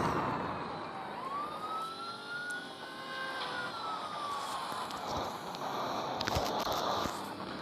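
A video game police car siren wails, rising and falling steadily over a continuous engine-like drone, fairly loud and close, with no one talking.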